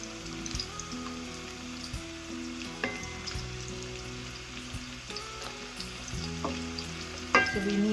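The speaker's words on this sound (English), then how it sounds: "we just need to fry them a little bit, not cook them too much" Kofta balls fry in a pan with a steady, close sizzle and crackle, broken by occasional clinks and scrapes of a utensil turning them; no one speaks.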